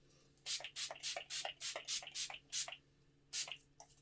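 Repeated short hissing bursts of Revolution Matte Fix setting spray, about a dozen quick pumps in an uneven rhythm, close and fairly faint with brief pauses between them.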